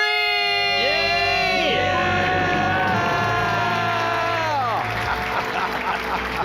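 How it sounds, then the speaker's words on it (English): A group of people screams and whoops in loud celebration of becoming debt free, overlapping high-pitched cries rising and falling over a lively crowd with cheering and some applause. "Let's hear a debt-free scream."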